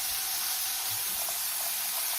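A steak quesadilla searing in a hot pan on high heat, a dense continuous hiss and sizzle that stays loud and steady throughout with no talking.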